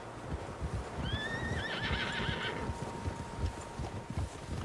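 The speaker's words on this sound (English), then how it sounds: "Horses, quite a few of them." Horses' hooves clop rapidly on the ground in a steady galloping rhythm in the video game Red Dead Redemption 2, with a horse neighing shrilly partway through, fairly quiet overall.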